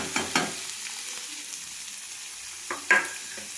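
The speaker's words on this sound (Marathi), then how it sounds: "आता मी त्याच्यात बारीक कट केलेला कांदा टाकणार आहे।" Finely chopped onion hitting hot oil in a pan, a low, faint sizzle broken by a few short bursts of scraping and stirring near the start and end.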